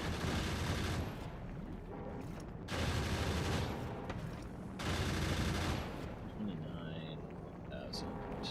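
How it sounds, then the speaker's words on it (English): Gun turrets in Factorio fire in loud, sustained bursts, three long stretches of rapid automatic shots broken by short pauses, with a voice heard faintly alongside the gunfire. "Goodness, those gun turrets are loud."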